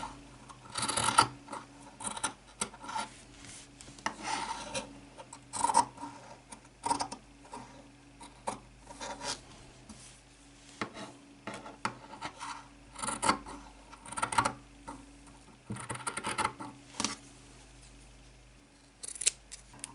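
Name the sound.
cutting material for a no-sew Barbie bag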